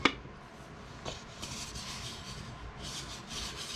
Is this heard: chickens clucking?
no